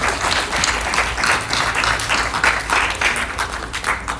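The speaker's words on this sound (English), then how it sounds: "Let's welcome General with a round of applause." A conference audience applauds to welcome a general, a former Chairman of the Uganda Development Forum, to the floor: dense, steady clapping from a large crowd, loud and continuous throughout.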